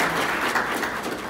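Audience applause fills a formal law-faculty ceremony in Port-au-Prince, a steady, dense wash of many hands clapping that holds at an even level throughout, with no talking over it.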